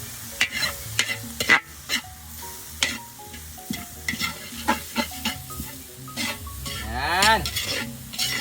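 A utensil stirs and scrapes through dry fried rice with kangkong leaves in a pan, producing irregular clanks and scrapes over a soft sizzle, up close with a faint squeak near the end and no speech.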